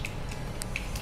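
Mustard seeds spluttering in hot oil for a tempering, a handful of sharp, sparse crackling pops over a steady faint background, close by and without talk.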